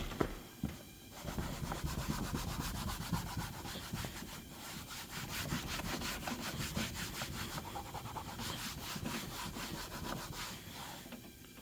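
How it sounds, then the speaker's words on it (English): Steady, close scrubbing on the worn upholstery of an old truck interior: a continuous raspy brushing that runs for the whole stretch with only slight dips and no talk. "Let's get scrubbing on that guy."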